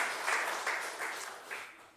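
A Korean church congregation gives a short round of clapping during a Sunday sermon, an even patter of many hands that rises in a few swells and then tapers off, with no voice over it.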